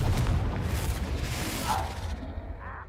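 A Confringo blasting curse goes off in the game Hogwarts Legacy, a rumbling low boom with debris-like crackle sustained across the whole moment, loud and dense with faint background voices.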